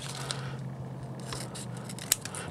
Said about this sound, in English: once again, we're going to trim the taped collar.